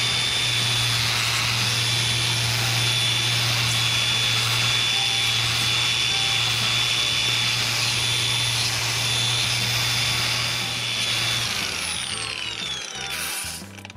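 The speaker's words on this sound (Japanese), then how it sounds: "このワイヤーでね、磨いてみます。" A wire brush power tool polishes an old wooden beam in a traditional Japanese house, giving a steady, loud whirring hum that runs without a break for about twelve seconds before winding down.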